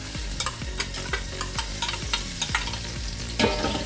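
A spoon stirs cinnamon sticks, bay leaf, cumin, cardamom pods, cloves and star anise in a pot for lamb biryani, giving repeated scraping strokes and clinks over a steady low sizzle, close and alone.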